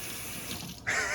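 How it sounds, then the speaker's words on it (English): Hot tap water runs steadily into a sink while hands are washed beneath it, a continuous close rush that briefly dips and then surges louder as the flow shifts. "Here's how you wash your hands."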